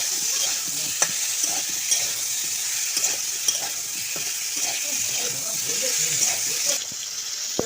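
Mango and jaggery chutney stirred in a pan, a steady bubbling sizzle with soft scraping strokes of the spoon and occasional sharper knocks against the pan, close and continuous throughout.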